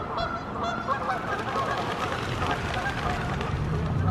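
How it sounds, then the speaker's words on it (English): A goose out in a small rural road honks repeatedly. Its calls come at medium distance under steady road or engine noise, and people talk nearby. "Oh, look, that goose is back in the road."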